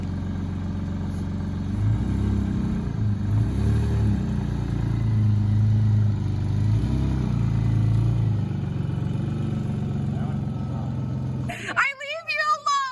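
A car engine runs close by with a steady low drone, rising into a few rev swells as it drives, before a brief clatter and sharp noise at the end; voices are heard over it.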